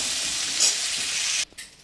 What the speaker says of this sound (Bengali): ডাঁটা আর কাঁচকলাটা একটু সামান্য হালকা করে ভেজে নিচ্ছি ওই মাছ ভাজা তেলটাতে